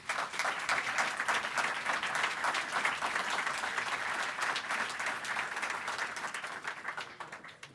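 An audience at a lecture on Michigan photography applauds steadily to welcome speaker Clayton Lewis to the podium. The clapping is sustained and even, then fades slightly toward the end.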